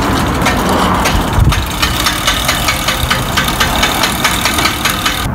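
A Fiskars StaySharp Max 18-inch reel mower pushed through grass, giving a steady rough whirring with repeated clicking blade ticks in a regular rhythm, loud and close, with no talking.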